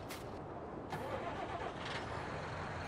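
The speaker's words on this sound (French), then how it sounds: "j'ai laissé le tracteur allumé" A tractor engine idles steadily in Farming Simulator 19, a continuous mid-level mechanical drone holding evenly throughout with no break.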